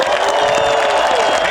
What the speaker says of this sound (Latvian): uztaisam milzīgas ovācijas garajam